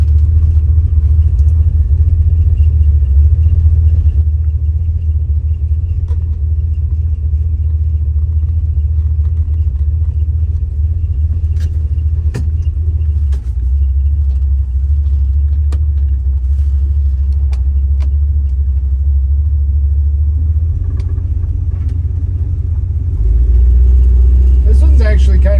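A small-block car engine fitted with big turbo mufflers rumbles steadily at a subdued idle, close and continuous, with a brief rise in revs near the end and occasional voices over it.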